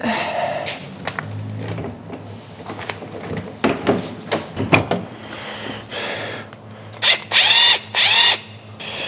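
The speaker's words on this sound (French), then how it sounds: "La petite clé." A small wrench working on a Volkswagen Beetle gives close metallic clicks and ratcheting taps, with a few knocks and scrapes. It ends in several short bursts of tool whirring.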